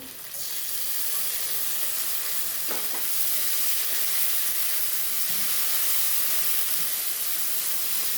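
Ground cumin, coriander and pepper paste frying with fried onions for a fish dish, a loud steady hissing sizzle that fills the whole stretch, with a faint stir or two.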